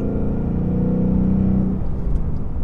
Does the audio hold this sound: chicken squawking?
no